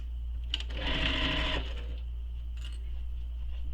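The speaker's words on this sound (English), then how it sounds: "So sew both those short edges together, both ends." A sewing machine stitches the short edges of a fabric shoulder bag in one steady burst of rapid, even whirring that lasts about a second, then stops. The room stays quiet with a low hum, and no one speaks.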